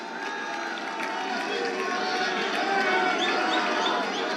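At a BJP party office event, a large crowd greets the prime minister with sustained applause and cheering, a dense continuous roar that swells slightly toward the end.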